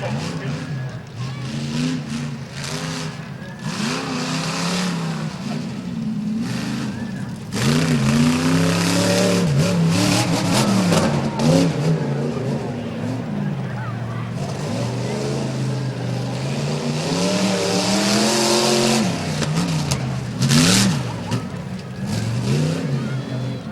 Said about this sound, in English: Lap number 1 of 2 for Levi Lacey.